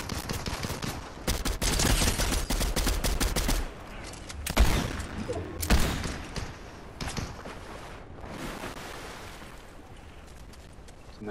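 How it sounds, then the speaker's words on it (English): Rapid bursts of gunfire in a Fortnite match, sharp volleys and fusillades crackling loudly in the first few seconds, then scattered, fainter shots and impacts trailing off. "Somebody's shooting behind us."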